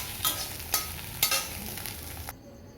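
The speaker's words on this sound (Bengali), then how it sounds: "আর একটু ডিম ভেজে নিলাম।" An egg frying in a pan with a steady sizzle and a few light stirring taps, close and moderately loud, before the sizzle cuts off sharply near the end.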